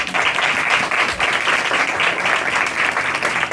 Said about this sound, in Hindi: तालियां बजाओ अपने।